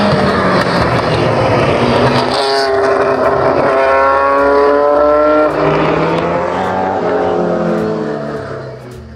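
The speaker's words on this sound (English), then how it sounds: "the standard DFV Formula 1 engines being used, which in my opinion was the best sounding V8 of all time." A Cosworth DFV Formula 1 V8 engine revs hard and loud, pitch climbing and dropping through gear changes as the car passes close, fading slightly at the end.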